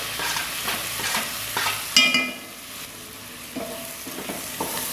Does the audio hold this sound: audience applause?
no